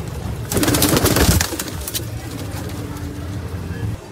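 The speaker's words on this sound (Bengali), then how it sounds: "পায়রাগুলো খাচ্ছে" Pigeons coo close by while feeding in light rain, low soft calls under a brief burst of rustling and flapping, with a vehicle passing in the background.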